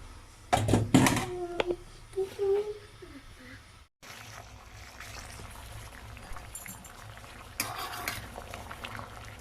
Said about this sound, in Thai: ใส่ลงไปเลยนะคะ ต้มให้มันเดือดนะคะ